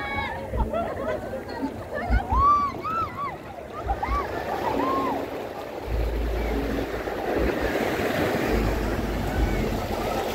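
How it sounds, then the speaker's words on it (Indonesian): Strong ocean waves at Pandan beach in Indonesia roll and wash in with a broad surging roar and heavy wind buffeting, while voices and chirpy bird-like calls sound early on. "Ombaknya cukup keras."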